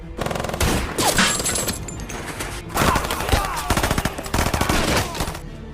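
Rapid bursts of machine-gun fire and rifle shots fill a battle scene from a war film about a sniper, loud and dense, with brief pauses between volleys and faint shouting mixed in.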